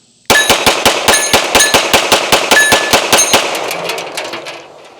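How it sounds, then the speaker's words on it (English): A Springfield XD Mod 3 pistol emptying a 16-round magazine in rapid fire at a target, a loud, evenly spaced string of sharp ringing shots that starts abruptly and then trails into fading echo. "We're just going to mag dump this 16 rounds into that target as fast as it'll go"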